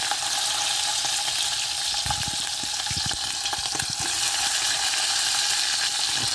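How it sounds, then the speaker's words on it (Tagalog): Fish sizzles and crackles steadily in a frying pan over a stove, a continuous hiss punctuated by a few sharper pops and scraping stirs around the middle, with no talking. "Prito prito ta isda ang inununan."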